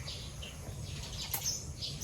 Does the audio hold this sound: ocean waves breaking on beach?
no